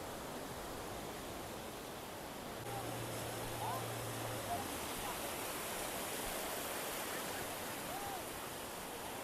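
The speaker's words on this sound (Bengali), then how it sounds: "নিচে এরকম সমুদ্রের স্রোত, ঢেউ কিন্তু বেশ বড় বড়" Large sea waves roll in on Mandarmoni beach, a steady, full broadband roar of surf that holds throughout with no clear gaps between breakers.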